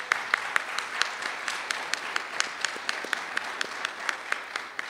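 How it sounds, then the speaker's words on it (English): Sustained applause from a crowd at a protest rally, steady dense clapping with a few sharper individual claps standing out, moderately distant and even throughout. "Let's give them a round of applause."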